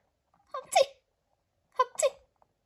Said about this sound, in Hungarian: Ne tüsszög már.